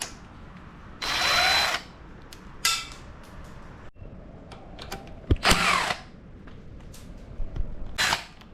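A drill-like power tool unscrews grease fittings on an FF Industrial FF15 Chinese excavator, giving a few short bursts of whirring spaced between quieter clicks and handling noises, nearby and moderately loud.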